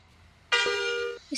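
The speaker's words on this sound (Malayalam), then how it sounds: "ഞാൻ മാത്രമേ ഇവിടെ ഹോൺ അടിച്ചുകൊണ്ടിരിക്കും" A bus horn in an Indian bus simulator game on a mountain ghat road gives a single short, loud blast lasting under a second, then stops abruptly.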